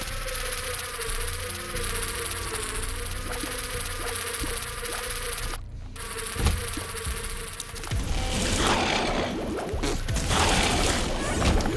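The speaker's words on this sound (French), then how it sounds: "J'adore, j'ai les mouches suicidaires." Suicidal flies in The Binding of Isaac: Afterbirth+ make a constant insect-like buzzing drone alongside game sounds, with a brief cut near the middle and busier, denser effects joining toward the end.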